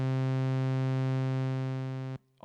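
A Moog Sub 37 synthesizer on an initialized patch drones a loud, steady buzzy tone with the mixer overdriving, holding for about two seconds before cutting off abruptly, with no talk.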